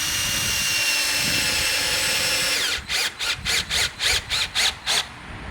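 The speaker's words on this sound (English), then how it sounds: "let's get our first screw drove in." A power driver sends a screw into a wooden mailbox post, with a long continuous whirring run followed by a series of about eight short, rhythmic bursts as the screw is set.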